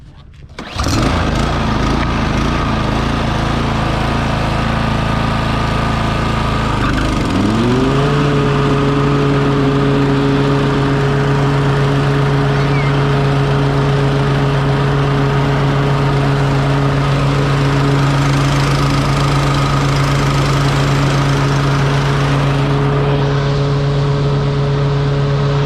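A Toro lawn mower engine cranks, catches and then runs at a steady loud idle, settling into a constant drone after a few seconds as it warms up.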